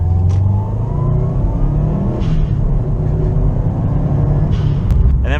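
Subaru WRX accelerating in second gear, its engine note rising steadily and loud from inside the car, a continuous rumbling rev with no talk.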